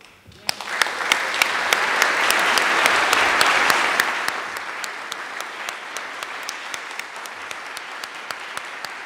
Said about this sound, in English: Let us all thank him warmly and give him a round of applause.